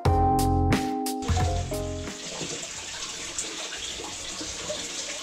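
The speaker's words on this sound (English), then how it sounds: "So this is the speed of the flow without the pump in operation." Water rushing through a hose from a tank on a ute to refill a soft coral aquarium, a steady close hiss and gush after a brief loud rumble at the start.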